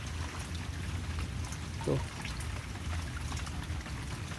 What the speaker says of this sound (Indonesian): lah kok terus-terusan hujan